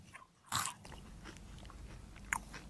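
A person bites into an edible locust with one sharp, loud crunch up close. Quieter crunchy chewing follows over a low background hum, with another crisp bite near the end.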